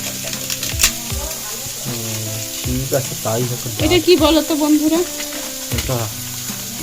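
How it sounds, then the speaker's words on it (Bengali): Potatoes fry in a pan in a home kitchen with a steady sizzle and occasional stirring scrapes, partly under people talking nearby. "আগে আলু ভাজা করে"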